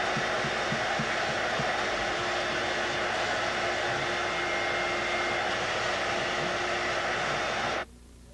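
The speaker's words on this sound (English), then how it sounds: "vacuum the buffing dust from the interior of tire." A vacuum cleaner runs steadily, sucking buffing dust out of the inside of a tire during a Tech tire repair, a loud continuous whoosh with a faint hum beneath that cuts off abruptly near the end.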